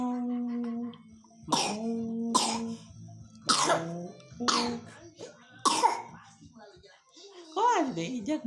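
A sick young child with flu coughs five times in quick loud spasms, close by, with an adult's voice talking over and between the coughs.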